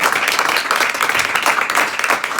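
A church congregation claps together in a dense, steady burst of applause offered as praise during a worship service, loud and continuous without pause.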